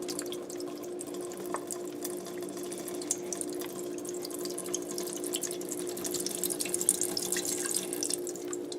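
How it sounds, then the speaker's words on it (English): Bone broth poured into the bottom of an Instant Pot, a continuous close trickle and splash of liquid under a steady kitchen hum. "I'm going to put my bone broth in the bottom of the Instant Pot."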